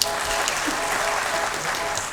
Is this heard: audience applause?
yes